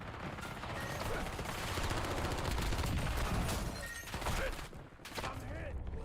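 Gunfire from a distant fight on Rebirth Island in Call of Duty Warzone sounds as dense, muffled bursts over a constant rumble of game noise, with rapid repeated shots layered throughout.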